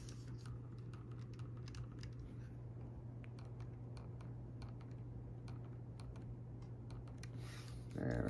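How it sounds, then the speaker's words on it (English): Typing on the small keyboard of an HP Palmtop PC, a fast, steady stream of light clicking keystrokes over a constant low hum, fairly quiet throughout. "the keyboard's surprisingly good on here, like you can type relatively fast"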